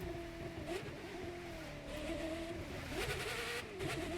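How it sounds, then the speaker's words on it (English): A Ferrari engine revs in The Crew 2 racing game, a loud continuous engine note that rises and falls with throttle changes as the car drives along Route 66. "You guys love the sound of this Ferrari is so incredible."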